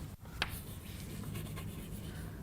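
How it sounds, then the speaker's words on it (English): Writing on a classroom board, faint scratchy strokes with a couple of sharp taps, soft and close in a quiet room with no talk. "Let's write."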